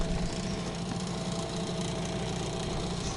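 A new Mikatsu 9.8 outboard boat motor runs steadily during break-in, giving a continuous, even mechanical drone with a slight knocking texture and no one talking.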